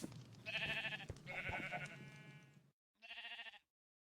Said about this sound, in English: the sheep farm and the chickens are right across the street